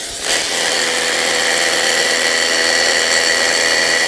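A steady, loud power tool whine from a Festool TID 18 impact driver drilling anchors runs continuously after a brief start, a high-pitched motor grinding without pause.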